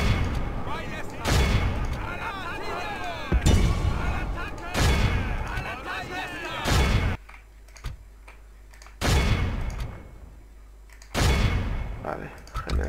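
Volleys of troop gunfire in a Warhammer video game battle, loud crackling bursts recurring every couple of seconds with short quieter gaps between them.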